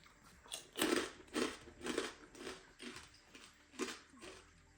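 Crunchy store-bought pork rinds being chewed close up, with repeated crisp bites and crunches in an uneven rhythm and no talking.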